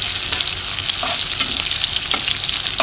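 Bean sprouts and pork stir-fry in a hot pan, giving a loud, dense, continuous sizzle with faint scraping stirs throughout.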